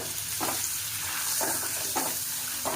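Sweet potato sautés in a pan, giving a close, steady sizzle with a few brief scraping stirs at intervals.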